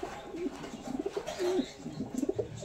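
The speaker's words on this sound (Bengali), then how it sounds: "খাঁচায় থাকে না, ওই জন্য পায়রা এরকম করছে।" Caged pigeons offered at a fancy-breed sale, including Indian Chotiyal, Andhra and Madras types, coo in low repeated rolling calls close by, with a few soft bursts but no clear wingbeats.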